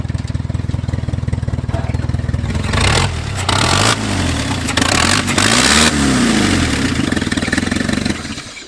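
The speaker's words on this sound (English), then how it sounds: "What a happy little motor." An 80-year-old abandoned Jeep engine runs steadily and loud, with a rhythmic idle that rises in several revving surges before settling back.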